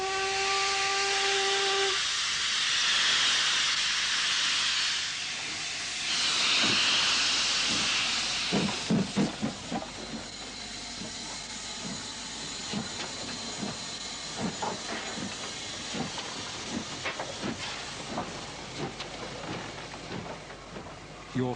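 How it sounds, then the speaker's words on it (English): A steam locomotive hauls the Royal Scotsman luxury train on the 42-mile Fort William to Mallaig line in the Scottish Highlands, giving a brief whistle before loud steam hiss gives way to a steady, rhythmic chuffing. "At Fort William, the Royal Scotsman is steam-hauled for the 42-mile journey to Mallaig and for the return trip."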